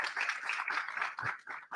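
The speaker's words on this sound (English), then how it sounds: "Round of applause for him as well." An audience at a diaspora conversation event applauds with a faint, continuous patter of many hands clapping, heard from a distance for a couple of seconds.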